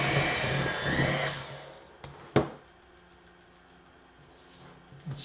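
Electric hand mixer beating peanut butter blossom cookie dough in a bowl, a loud steady whir for about a second and a half that cuts off, followed by a couple of sharp knocks and quiet room noise.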